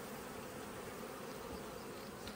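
Agitated honeybees buzz steadily at an opened hive during a subarctic hive inspection, a dense, continuous insect drone with no talk over it.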